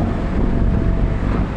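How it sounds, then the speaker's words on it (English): A 2017 Audi TT RS Roadster's rear-mounted engine rumbles steadily in a low, continuous growl, loud and close, mixed with broadband wind and road rush from the open-top car, with no talking. "that engine is just sat there in the back growling at me"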